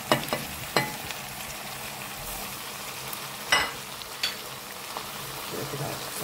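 Fresh green beans sauté in a pan with a steady, moderate sizzle, broken by a few scattered clinks and scrapes of stirring.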